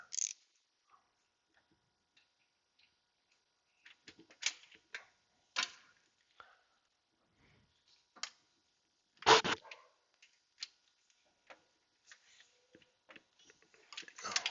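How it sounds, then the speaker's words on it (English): Ratchet tightening the lower starter bolt on a 2005 Honda Element, heard as scattered short clicking bursts with a few louder knocks, close and fairly quiet, with brief gaps between strokes and no talking. "Now we'll just go after ratchet, tighten the bottom one."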